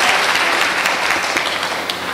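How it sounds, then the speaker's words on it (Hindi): Steady applause from an audience at a Hindi kavi sammelan poetry gathering in Rai Bareilly, a dense wash of many hands clapping throughout, fairly close and loud, with no voices over it. "एक बार तालियां बजा दीजिए"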